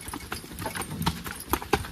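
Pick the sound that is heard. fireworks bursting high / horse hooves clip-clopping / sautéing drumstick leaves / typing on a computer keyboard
horse hooves clip-clopping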